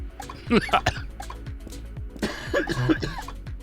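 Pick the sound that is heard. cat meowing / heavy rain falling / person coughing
person coughing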